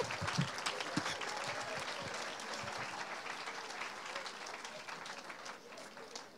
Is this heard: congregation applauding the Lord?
yes